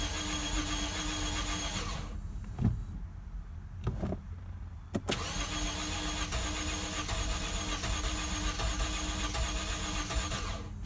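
A Lexus IS250 with a freshly replaced engine cranks and catches: a steady hum drops briefly, a few clicks and a short crank burst follow, then the engine settles into an even, continuous idle close by.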